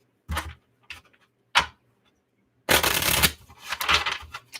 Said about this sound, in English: Let me give it a riffle shuffle here.